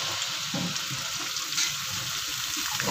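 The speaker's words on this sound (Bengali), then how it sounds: "দেখুন এবার আমি সবজিগুলোকে ভেজে নিচ্ছি ফ্রাইড রাইসের জন্য। তো প্রথমে আমি গাজরগুলো এর মধ্যে দিয়ে নিলাম।" Carrots frying in a pan with oil for paneer fried rice, a steady soft sizzle with faint stirring scrapes, close and continuous, no voices.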